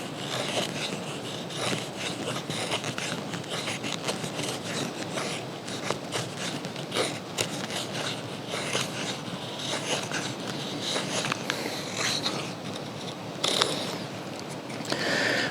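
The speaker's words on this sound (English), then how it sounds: "Let's just see how well it carves some of those curls" A Demko Armiger 2 saber grind knife carves curls from split wood, producing steady scraping and rasping strokes in a close, repetitive rhythm with no talking.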